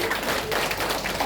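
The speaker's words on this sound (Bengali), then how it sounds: "জোরে হাততালি।" Audience clapping at a members' gathering in a hall, a steady dense patter of many hands lasting just over a second with no break.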